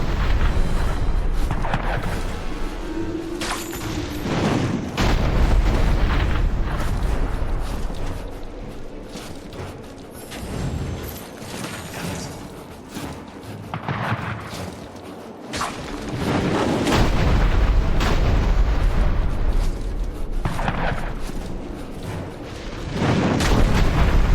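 Azunite gunners open fire in the Dungeon Siege 3 video game, loud booming artillery blasts and whooshing shots repeating over a dense, rumbling battle din with mechanical clatter.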